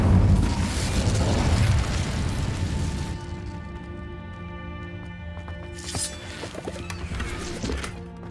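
An Incendio fire spell cast in Hogwarts Legacy, opening with a loud roaring, crackling burst of flame that fades over a few seconds into a lingering ringing drone, with a smaller flare near the end.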